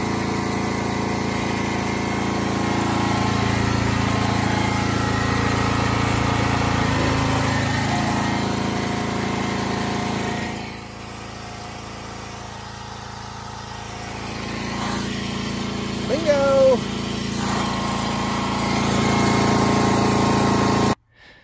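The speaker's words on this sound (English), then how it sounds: "that's the generator" A small generator engine runs steadily outdoors at an off-grid cabin buried in winter snow, its drone dipping in level midway before returning, then cutting off abruptly.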